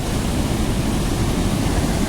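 Water pouring over the spillway of the full, man-made Khornineko dam in Lanja, Ratnagiri: a steady, dense roar of rushing water, loud and unbroken, with no voices.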